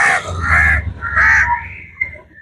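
Crows caw loudly and close while being fed, several harsh calls in quick succession followed by a brief pause and a final shorter caw.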